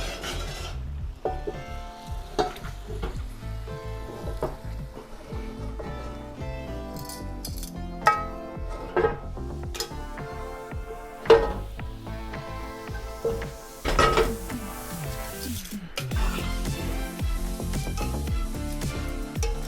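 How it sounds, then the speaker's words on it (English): Italian sausage and peppers scraped and stirred out of a pan into a Dutch oven, with repeated metallic utensil scrapes, clinks and light sizzling over about twenty seconds. "transfer everything in the pan to my Dutch oven"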